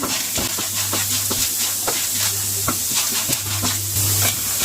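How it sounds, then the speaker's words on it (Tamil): Chana dal and urad dal dry-roasting in a pan, giving a steady near sizzle and hiss with scattered light scrapes and clicks from stirring throughout, no voices. "கடலைப்பருப்பும் உளுத்தம்பருப்பும் போட்டு வறுத்துட்ருக்குறேன்."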